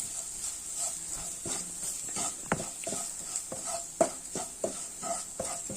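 Pepper and Kashmiri chilli masala roast in a pan while a spoon scrapes it around in irregular strokes over a faint, steady sizzle.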